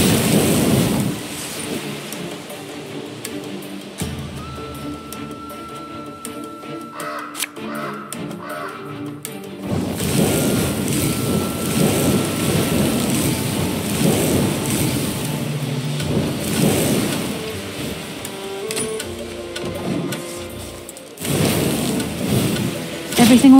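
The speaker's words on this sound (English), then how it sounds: "Storm is coming. Let's enjoy the weather while we still can." Thunder rumbles and rain falls steadily through a fantasy game storm, with louder rolling surges and a brief crow-like caw amid the continuous downpour.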